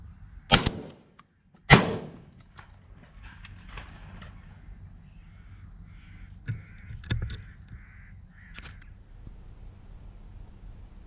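Two sharp, loud gunshots fire close together in the first two seconds of corvid pest control aimed at crows, followed by quiet outdoor ambience, a few faint clicks and a soft thud.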